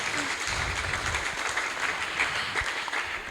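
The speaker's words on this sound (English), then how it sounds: "Let's give Vibhu Chaitanya Prabhu a big round of applause." A festival audience applauds Vibhu Chaitanya Prabhu, a steady wash of clapping from a crowd that holds evenly for the few seconds without pause.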